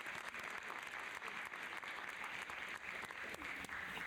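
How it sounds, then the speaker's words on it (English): A room full of people at a school board of education meeting applauds award recipients, giving a steady, full round of clapping that continues without pause. "So let's give them a round of applause."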